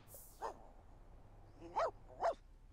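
In The Sims video game, a dog lets out three separate sharp barks: one early, then a pause, then two more close together near the end. The barks are clear against a quiet, low hum.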